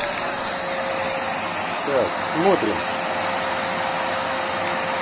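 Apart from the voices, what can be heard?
vacuum cleaner running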